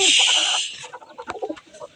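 A young hen clucks close by in a quick burst of short, uneven clucks, heard alone after a brief rush of background noise.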